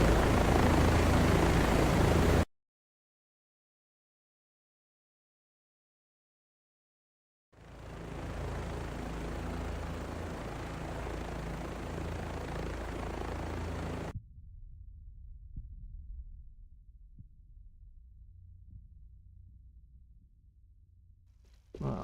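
Chinook twin-rotor helicopter in the DCS flight simulator game, a steady loud rotor and engine drone that cuts out, returns after a gap, then drops to a lower, quieter rumble.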